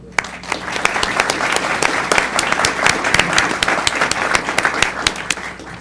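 An audience at a commission meeting breaks into applause, sharp individual claps standing out over a dense, continuous ovation that stays fairly loud and even from start to finish.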